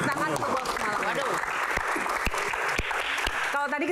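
An audience claps at a live Q&A event after a numbered box is opened, a dense burst of applause that fills the room, with a voice speaking over it.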